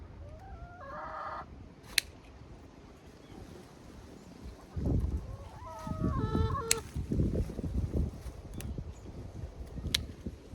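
Chickens cluck and squawk nearby, with a few higher calls early on and a louder burst of flapping and clucking midway, plus rustling.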